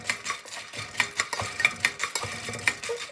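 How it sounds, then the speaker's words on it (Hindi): A spoon scrapes and clinks in a pan as panjeeri ingredients are stirred while dry roasting, with quick, irregular strokes up close and a faint sizzle, with no voices. "बस आप 7-7 चम्मच हिलाते रहना है ताकि कोई भी चीज़ जले ना"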